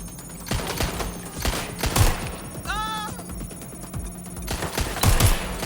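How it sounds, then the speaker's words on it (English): Gunfire in the video game Watch Dogs Legion: scattered loud shots and short bursts crack over a steady game background, with a brief high whistling tone in between. "I'm taking fire! Getting shot at here."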